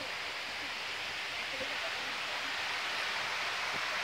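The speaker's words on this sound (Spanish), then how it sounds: "Se oye allá a lo lejos el agua." Water flows far off at El Tuncaj in Granados, Baja Verapaz, as a soft, steady, faint rushing hiss that continues evenly throughout.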